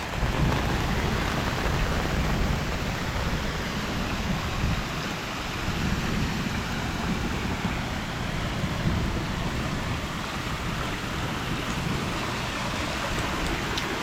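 Steady rain pours down outdoors beside a pool, a dense continuous hiss and patter that holds at an even, fairly loud level throughout.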